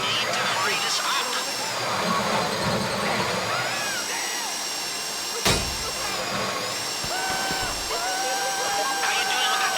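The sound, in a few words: safe drill running during Fleeca Job heist, from video game GTA Online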